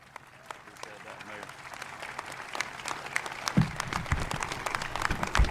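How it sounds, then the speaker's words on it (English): An audience at a public safety training center ribbon-cutting ceremony applauds for the Georgia governor, with scattered claps building into steady crowd applause midway, heard beneath an announcer's voice. "Please get on your feet and give a rousing round of applause for the 83rd governor of the state of Georgia, Governor Brian Kemp."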